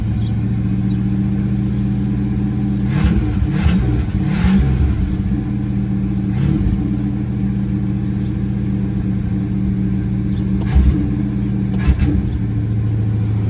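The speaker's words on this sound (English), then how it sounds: "She's hitting on all 8 cylinders" A 429 cubic inch V8 in a low-mileage older car runs steadily up close, a deep even idle with a few short throttle blips breaking through.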